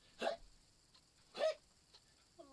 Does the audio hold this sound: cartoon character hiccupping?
yes